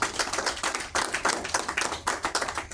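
A church congregation claps in a loose, rhythmic wave of hand claps, moderately distant, continuing steadily for a few seconds.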